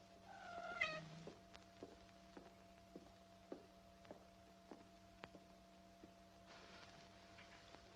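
A cat gives one faint, drawn-out meow near the start inside a quiet house, followed by soft scattered ticks and taps at low volume.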